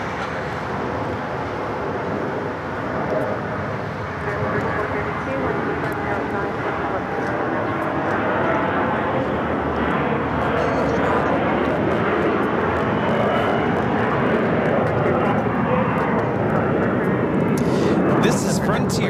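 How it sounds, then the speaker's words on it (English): A Frontier Airbus A321 MAX in Lynx livery takes off from LAX bound for Salt Lake City, its engine roar building steadily and loud beneath voices talking throughout. "This is Frontier 1268s taking off to Salt Lake City on the A321 MAX, the Lynx livery."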